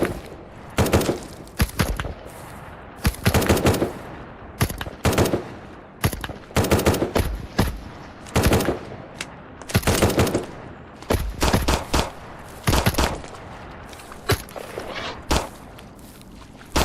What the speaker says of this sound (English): he's definitely shooting at me